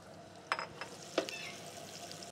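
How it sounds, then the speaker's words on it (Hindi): Three medium onions frying in hot ghee toward golden brown, a quiet steady sizzle with a few sharp stirring clicks of a utensil. "इनको इसमें शामिल कर देंगे घी में और इसको गोल्डन ब्राउन करेंगे"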